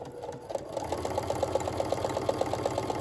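A sewing machine set to a short stitch length runs a line of paper-pieced quilting for a heart block, its needle chattering in a fast, even rhythm from start to finish with no talking.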